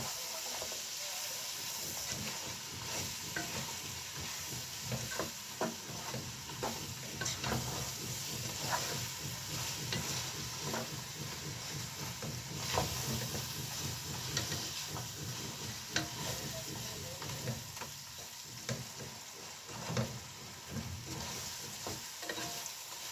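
Spices, including turmeric, are stirred and fried in a pan for chicken kabsa: a constant close sizzle and hiss broken by repeated scraping strokes of a utensil against the pan.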